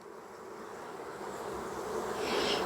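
Honey bees buzzing around an open hive on a hot late-summer day, a steady dense hum that swells slightly louder toward the end, close and alone.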